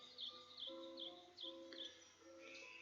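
Birds chirp and tweet softly in short repeated calls, faint and somewhat distant, over quiet piano music from a Beethoven sonata.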